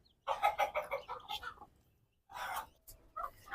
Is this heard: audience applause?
no